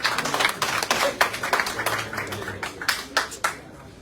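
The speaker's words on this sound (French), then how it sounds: "on les applaudit," An audience at a public health insurance fund outreach event in Guadeloupe applauds, with distinct claps close together at first and then fewer, sharper individual claps spaced out toward the end.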